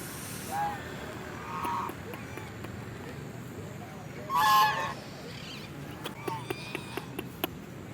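Geese honk and hiss in a few short bursts, one louder call midway, with soft voices and faint clatter in the background, at a lake in Clement Town, Dehradun.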